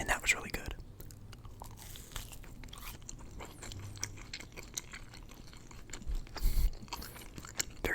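Close, soft biting and crunchy chewing of Wendy's fast-food French toast at a breakfast meal, irregular wet mouth sounds with quiet intervals and a louder crunch burst near the end.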